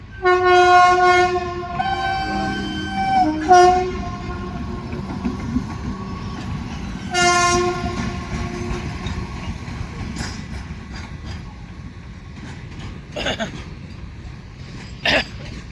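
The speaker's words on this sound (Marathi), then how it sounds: "मालगाडीच आहे पण कंटेनरची." A container freight train passes close by, sounding several long, loud horn blasts with a heavy rolling rumble underneath, then continuing with fainter clatter and a few short horn toots.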